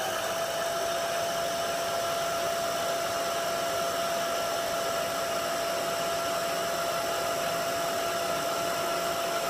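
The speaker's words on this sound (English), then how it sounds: "my last blast of the hairdryer" A hair dryer blowing steadily at close range for the whole stretch, a constant loud whirring rush with a fixed motor whine and no pauses or talk.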